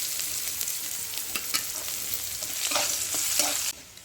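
Chopped onion and garlic hit hot oil already tempered with chili and panch phoron, giving a steady close sizzle with bursts of stirring scrapes, then cutting off abruptly.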